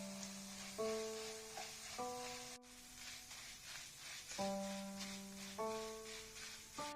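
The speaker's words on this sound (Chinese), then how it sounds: "小火慢炸，把面条炸熟炸透。" Noodles fry slowly in oil over low heat, a soft, steady sizzle and crackle that continues throughout beneath gentle background music.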